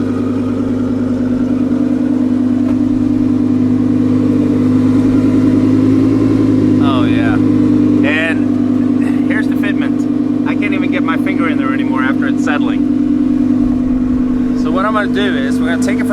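An Audi R8 fitted with new wheels runs with a steady, loud engine drone throughout, rising slightly at times, while people talk over it.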